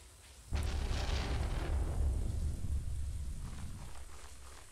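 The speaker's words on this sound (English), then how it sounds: "Oh, lots of thunder." A loud thunderclap in the farming game Stardew Valley breaks out suddenly, then rolls into a long, deep rumble that slowly fades over a steady hiss of rain.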